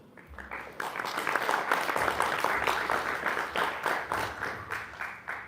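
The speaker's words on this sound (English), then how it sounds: "So give him a round of applause." At an Ethereum community event, an indoor audience breaks into sustained applause that swells, holds steady, then tapers into scattered claps near the end.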